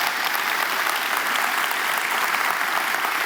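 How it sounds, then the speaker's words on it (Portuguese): Dense, continuous applause from a church congregation during a televised worship service, a short steady burst of many hands clapping with no pauses. "Vamos aplaudir a Jesus."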